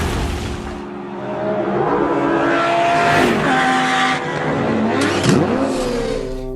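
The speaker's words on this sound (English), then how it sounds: "pipes to give you that beautiful sound of the 5-cylinder turbocharged engine" An Audi TT RS with its turbocharged five-cylinder engine revs loudly and close by in several rising and falling blips, the exhaust note swelling and dropping over a steady idle with no voices.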